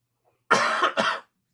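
A single close, harsh cough in two quick bursts, lasting under a second and standing alone against silence.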